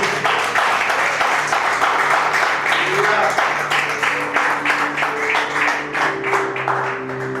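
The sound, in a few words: congregation applause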